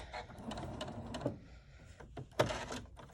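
A sewing machine stitches across a folded strap with short bursts of rapid, close mechanical chatter and a few louder clunks, all fairly quiet.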